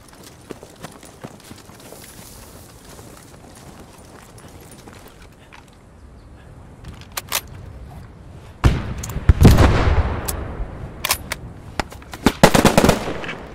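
Distant sporadic single shots and short machine gun bursts in the World War II shooter game Squad 44, faint at first, then growing loud and close with rapid rattling volleys near the end.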